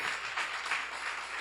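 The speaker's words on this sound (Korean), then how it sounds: "박수 세게 쳐요" Church seminar audience clapping hard together, a brief dense burst of rhythmic applause with no talking.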